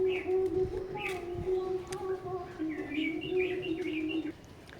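Oman bloodline teddy pigeons sound off with soft coos and light chirps over a steady low drone. Brief higher calls break in and out throughout.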